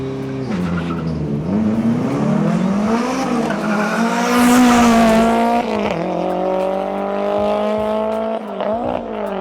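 A Proton Satria Turbo with a 4G63 engine revving hard and accelerating on a straight road, loud close engine note rising and shifting pitch with gear changes over about nine seconds.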